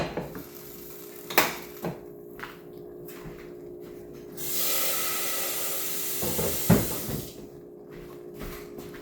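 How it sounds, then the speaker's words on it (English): Rice for jollof being stirred in a pot with a utensil, scraping and clinking against the metal with a couple of sharp knocks and a soft sizzling hiss, close and fairly quiet. "I'm going to mix my rice in until my rice is fully coated."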